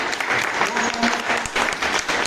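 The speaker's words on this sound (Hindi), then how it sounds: "दोनों के लिए जोरदार तालियां।" Loud, steady applause from an audience at a company New Year celebration, a dense wash of many hands clapping close by for the whole stretch, with a few voices briefly audible underneath.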